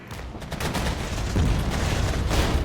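Artillery fire in the real-time strategy game Regiments, a dense barrage of overlapping booms and crackling blasts rolling continuously, loud and noisy with no speech.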